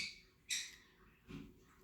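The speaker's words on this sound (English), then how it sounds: "Look, my pigeon showed up." Pigeons arriving with a few short squawking calls, one sharp burst near the start of the moment and another lower, rougher call a little later, fairly close with quiet gaps between.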